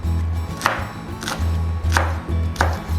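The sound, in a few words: knife chopping romaine lettuce for Caesar salad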